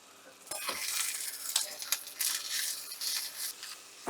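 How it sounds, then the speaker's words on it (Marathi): Spinach, coriander, garlic and chili sautéing in a pan, a steady close sizzle with scraping stirs and crackling bursts throughout, no talking. "दीड मूठ जवळजवळ पालक घेतला आणि भरपूर कोथिंबीर लसूण आणि मिरची असं घालून हे आपण छान परतून घेणार आहोत"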